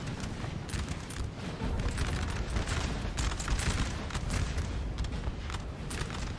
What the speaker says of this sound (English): This artillery is relocating, and they are about to start firing